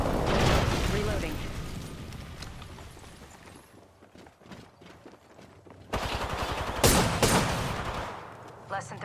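Gunfire in the video game Apex Legends: bursts of rapid shots, heavy at the start and again near the end, with quieter stretches between them, heard under in-game voice callouts.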